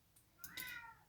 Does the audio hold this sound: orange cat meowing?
yes